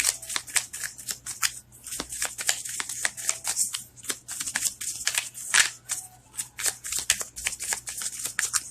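Tarot cards are shuffled by hand in quick, crisp riffles and soft slaps, a close, continuous flurry of papery snaps with no talking.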